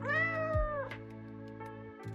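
A tabby cat in a video game lets out a loud, close meow-like chatter with a rising, drawn-out tone, followed by a couple of softer chirps, alone without voices.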